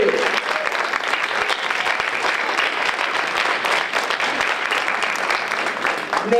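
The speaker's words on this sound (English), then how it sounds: "let's give Lisa Riley and all of her team members a great big round of applause for bringing us together" Enthusiastic crowd applause at a women of color entrepreneur conference, honouring Lisa Riley and her team, loud and sustained clapping from a packed room with a voice faintly audible underneath.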